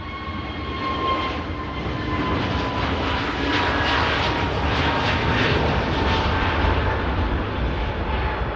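An Airbus A321neo jet, about a year old, departs Manchester Airport bound for Istanbul with a loud, steady engine roar that holds strong and broad across the whole stretch, with no talking.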